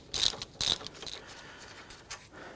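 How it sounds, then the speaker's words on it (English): A ratchet loosens the lower bolt during front right CV axle work on a 2011-2015 Kia Sorento. It gives two short, sharp clicking bursts close by, then a few fainter clicks. "Now I'm going to loosen and remove the lower bolt first."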